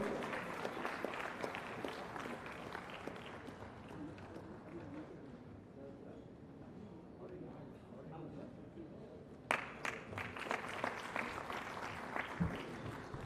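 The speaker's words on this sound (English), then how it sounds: "So guys, give a big round of applause." Applause from the audience at the inaugural session of an all-India commerce conference, a steady wash of many hands clapping in a large hall, fairly faint and distant, thinning out toward the end.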